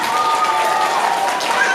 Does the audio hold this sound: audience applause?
yes